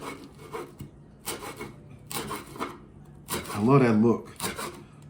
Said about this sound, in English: All right, so julienning my cabbage.